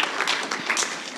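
Audience at a school quiz competition applauding a primary school team, a brief steady patter of many hands clapping at close range.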